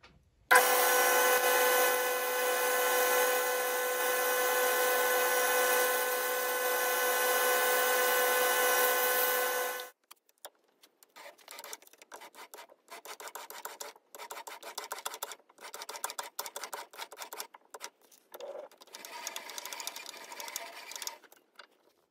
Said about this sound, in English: I'm going to start by turning a section down and cutting a thread into it.